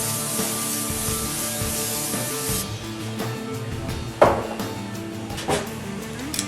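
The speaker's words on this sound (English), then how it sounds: "We'll spray the pan with a little bit of cooking spray." Cooking spray hisses onto a pan while venison meatballs are prepared, a broad steady spray in the opening seconds followed by quieter kitchen handling and a couple of sharp knocks.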